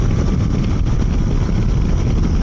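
Steady, loud engine and wind roar from a Triumph Tiger Sport 800 motorcycle building speed toward 64 mph, a continuous broadband rush with no pauses and no voices.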